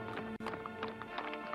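Horse hooves clip-clop in a quick steady rhythm close by, loud and continuous, with a brief gap partway through and no talk over it.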